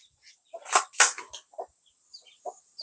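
A few short, sharp clucks from chickens, with two louder calls near the start and softer scattered ones after, close and otherwise quiet.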